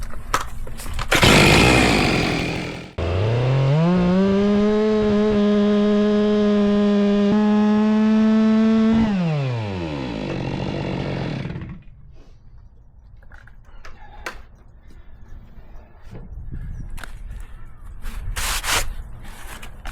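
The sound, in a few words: Stihl MS 462 chainsaw cutting dried Robinie trunk into slices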